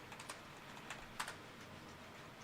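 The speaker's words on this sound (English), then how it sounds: "who's typing, bro?" Keys clacking on a computer keyboard in irregular bursts during an online Roblox debate, faint and slightly distant, with clusters of sharp taps over a steady background hiss and no talking.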